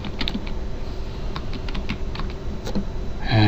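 Steady, rapid clicking of keys on a computer keyboard while text is entered into a code editor, close and clear, with a louder thump at the end.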